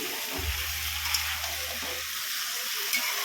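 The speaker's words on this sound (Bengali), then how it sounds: "আলু কুমড়ো আর নুন হলুদ দিয়ে ভালো করে ভাজছি, সয়াবিনটাও দিয়ে দিয়েছি।" Potato, pumpkin and soybean with salt and turmeric fry in a pan, giving a faint, steady sizzling hiss with a low hum underneath.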